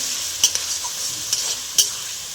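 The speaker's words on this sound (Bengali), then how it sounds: "মশলাটা ভালো করে কষিয়ে নিতে হবে।" Spice masala with coriander powder and ginger-garlic paste fries in oil in a pan for chicken. A soft sizzle runs throughout, broken by a few sharp clinks as the mixture is stirred.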